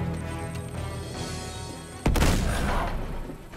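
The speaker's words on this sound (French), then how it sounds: "Grenade!" A grenade blast in the Uncharted 2 action game erupts about halfway through as a sudden loud boom, following a dense stretch of tonal game music and rumble, then decays into crackling debris and gunfire.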